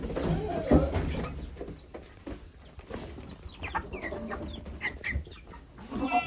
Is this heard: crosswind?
no